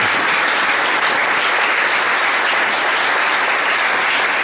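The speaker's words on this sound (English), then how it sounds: "let's put our hands together and give a round of applause" A large conference audience claps in a sustained, dense round of applause, loud and steady throughout with no talk over it.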